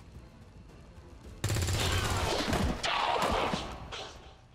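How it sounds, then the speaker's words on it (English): Burst of automatic gunfire in the XCOM 2 game, loud rapid rattling shots that start abruptly, pause briefly and resume, then trail off. "He'll go an overwatch, he'll take the shot"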